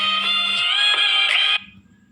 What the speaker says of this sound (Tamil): ஒரு ஃபோன் கால் வந்துருச்சு